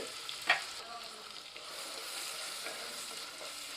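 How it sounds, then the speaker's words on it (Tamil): Ground spice paste sautés in a pan for a Madurai-style fish curry, a steady soft sizzle and crackle with a brief scrape of stirring near the start. "இது நல்லா வதங்கட்டும் இதை ஒரு நிமிஷம் இப்படி வதக்கிட்டு"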